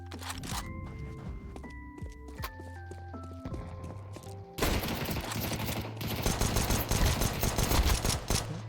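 An AK rifle in a video game fires in rapid bursts, dense and loud, layered with other game sounds and ending in sustained automatic fire, with no talking over it.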